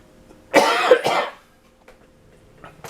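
A single harsh, close cough bursts out in two quick hacks from a person in a room, followed by quiet with faint small throat noises.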